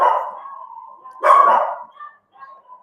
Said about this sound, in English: I've got crazy dogs today